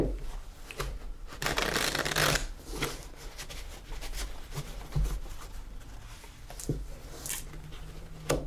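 A deck of playing cards is shuffled by hand for an Old West saloon Faro game, with repeated riffles and soft flutters of cards, close and crisp, and no talk over it.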